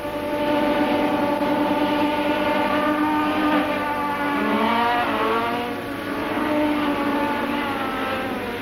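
A loud, high-revving racing hovercraft engine drones steadily, its pitch rising and falling as it speeds up and eases off during a hovercraft race.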